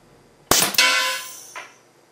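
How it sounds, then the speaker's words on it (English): A homemade big-bore air rifle running on 120 psi shop air fires a 350-grain lead slug over a chronograph. It gives one sharp, loud report with a metallic clang that rings out for about a second, followed by a fainter secondary knock. "I've loaded a 350 grain lead slug, and I'll try firing over the chronograph."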